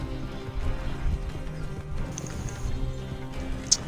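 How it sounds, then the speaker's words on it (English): A horse gallops in the Red Dead Redemption 2 video game, its hooves drumming in a steady, continuous rhythm under a rumbling background, with a short sharp click near the end. "Come on, horse, run."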